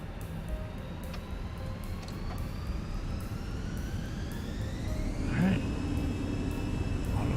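Jet engines of an Airbus A320 in a flight simulator spool up on the takeoff roll, a steady loud roar with a rising whine and rhythmic runway thumps, with speech over it.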